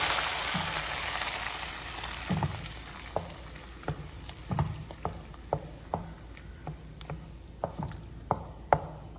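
A spoon or ladle stirring sweet pongal in a pot, with cashews added, giving a run of irregular scraping clacks and soft thuds over a faint background hiss, close and fairly quiet.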